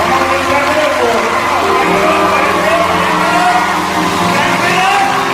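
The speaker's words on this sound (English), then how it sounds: "let's clap it up for her" A church crowd cheers, whoops and claps loudly for a gospel singer, dense continuous applause and shouting filling the room from start to finish.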